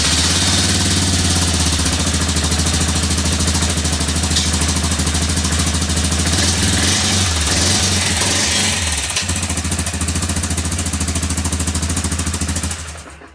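A Can-Am 450 engine, just fitted with a new fuel pump, runs loud and close with a steady rough idle and clatter, revving briefly midway before cutting off at the end.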